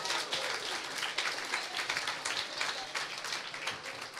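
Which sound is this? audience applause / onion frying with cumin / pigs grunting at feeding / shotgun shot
audience applause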